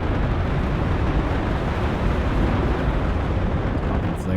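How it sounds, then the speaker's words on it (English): A bomb explodes in the WARNO war video game with a loud, sustained low rumbling roar that fills the whole stretch, dense and heavy with no voices. "You saw a bomb drop"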